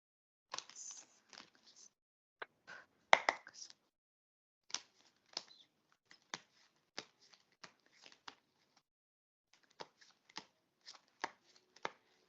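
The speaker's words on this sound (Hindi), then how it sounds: "तो मैं आपके लिए 3 कार्ड्स निकालती हूँ।" Tarot cards shuffled and drawn close by, crisp papery snaps and riffles in short separate bursts spread across the stretch with quiet gaps between, faint and intimate, no talk.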